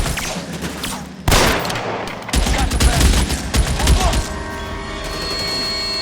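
Dense gunfire in the LA Noire video game, with a broadband volley starting near 1.3 s and sustained rapid shots after 2.3 s, loud and close, while voices shout over the shooting.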